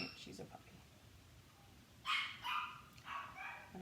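A young puppy barks and whimpers indoors in bursts of yips and whines, fairly faint and mixed with background talk.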